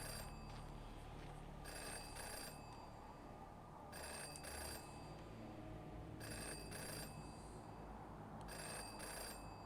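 A telephone rings in repeated paired bursts inside the adventure game Jenny LeClue, four clear rings spaced evenly over a steady low background hum.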